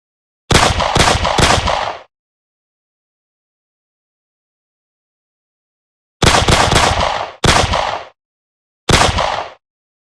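Bursts of automatic gunfire from a zombie shooter video game demo: two rapid volleys, a gap of silence, then three more short loud bursts, with no talking.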